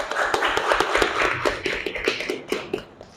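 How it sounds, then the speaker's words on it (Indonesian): A school class claps together in a quick, uneven patter of many hands, lively and close, with no talking. "Tepuk tangan dulu."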